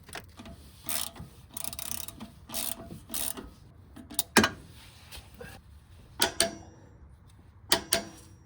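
Ratchet tightening the front engine mount crossbolt on a 2001-2006 Nissan Sentra 1.8L, heard as several short bursts of clicking strokes separated by pauses, close and moderately loud, with a few sharper metallic knocks.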